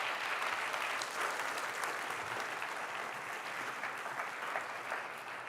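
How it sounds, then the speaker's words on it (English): Steady applause from a school Hispanic Heritage Month celebration audience honoring parents, a dense wash of clapping that holds evenly throughout and fades slightly at the end. "let's give a round of applause to our parents here"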